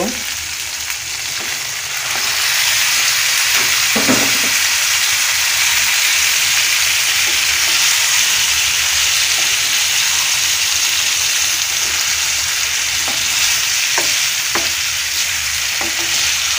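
Beef pieces frying in a pan of cooked-down spice paste for a royal beef korma, a steady loud sizzle that swells after a quieter opening, with occasional scrapes and knocks of stirring throughout.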